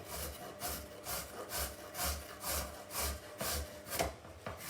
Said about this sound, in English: So we're just grating the carrot up, just down until I get to the end.